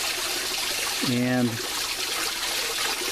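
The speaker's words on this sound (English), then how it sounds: "You can see here where the water's coming in," Water pours into a hydrocyclone aeration unit in an aquaponics system, a steady close splashing flow that runs throughout while someone speaks over it.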